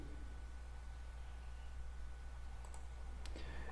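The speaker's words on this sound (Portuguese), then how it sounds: "Quando você clica aqui" Two or three quiet computer mouse clicks sound near the end over a steady low hum and background hiss.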